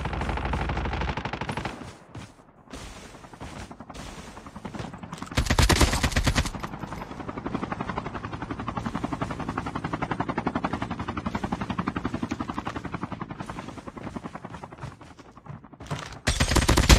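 AK47 gunfire in the mobile shooter game Call of Duty Mobile comes as loud, sustained automatic bursts, rattling on almost without pause, with brief gaps and one sharp explosive blast partway through.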